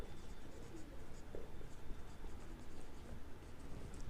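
Pen scratching across paper while an accountancy entry is written, a steady close scratching rhythm with short pauses, heard alone without talk.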